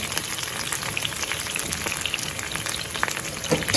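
Onions fry in oil with curry leaves for a potato and bean curry, producing a soft, steady crackle and sizzle with scattered pops, fairly quiet and with no talking.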